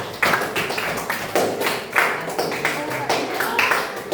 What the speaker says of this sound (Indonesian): aplaus buat teman kamu